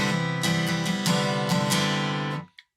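Acoustic guitar strumming the rhythm pattern of a song, a series of ringing chord strums in steady rhythm, close and clear, ending with the strings muted and a brief final tap.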